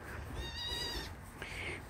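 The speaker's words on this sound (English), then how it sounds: "This goat's playing." A goat on a homestead, playing among the herd in a pen with straw, gives a short bleating cry, then a second brief call a moment later, close and moderately loud over low background rumble.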